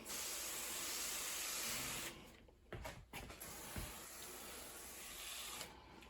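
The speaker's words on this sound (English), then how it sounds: "so now we're just going to spray them to give them their final little go" Steady broadband hiss of a spray nozzle misting water onto hydroponic lettuce seedlings, running continuously for a couple of seconds before breaking into a few short bursts.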